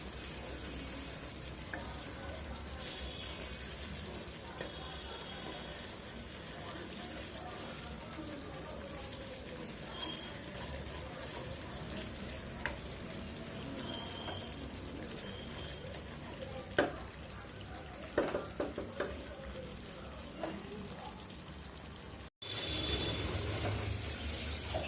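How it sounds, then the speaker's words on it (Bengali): Spices being fried in a pan for chicken roast, a steady soft sizzle and crackle that runs throughout, with a few louder clinks of stirring near the end. "আমি আগে সব মশলা কষাই নিব"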